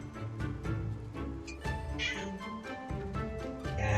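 Domestic cat meowing indoors, repeated calls under continuous game music.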